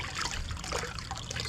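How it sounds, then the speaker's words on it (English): A mop soaking in a bucket of clean water gives soft, close trickling and dribbling sounds, a continuous wet sloshing with no talking. "I have a bucket of clean water here, and I'm going to saturate my mop"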